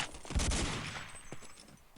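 Grenades and gunfire in Day of Defeat on the dod_solitude map, with a heavy blast and a rattle of shots followed by a fading rumble and scattered single reports.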